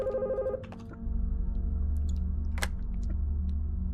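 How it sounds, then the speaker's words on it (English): A telephone rings in the Skin Stapler video game, a steady electronic tone that cuts off after about half a second, followed by a low hum and a few faint clicks. "And the phone's ringing?"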